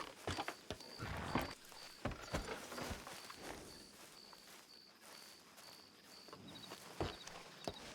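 Horse hooves clip-clop in a slow, uneven walk, close and fairly loud, over a steady background of crickets and insects.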